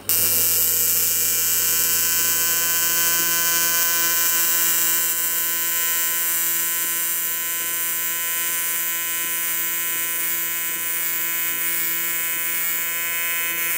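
AC TIG welding on an aluminium alloy box section gives a loud, steady electric buzz with a high hissing whine, continuous and close throughout.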